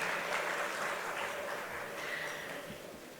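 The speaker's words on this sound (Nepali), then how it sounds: "एकचोटि फेरि पनि जोरदार ताली एन्टायर ग्यालेक्सी 4K टिमको लागि" Steady applause from an audience at a Nepali entertainment event honoring the Galaxy 4K team, a dense continuous wash of many hands clapping at moderate distance, fading slightly toward the end.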